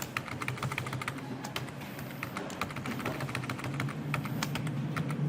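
Steady, rapid keystrokes on a computer keyboard while code is deleted, close and continuous clicking with a low background hum, no speech.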